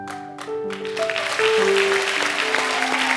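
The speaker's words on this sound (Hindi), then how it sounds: "एक बार जोरदार तालियां हो जाएं, जोरदार।" Studio audience on The Kapil Sharma Show breaking into applause, with clapping that swells and holds as a dense, loud wash while sustained musical tones play over it.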